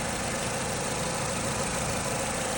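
A 1.6-litre petrol engine in a Renault Megane III hatchback idling steadily up close, a continuous even mechanical hum with a faint knocking texture and no voices.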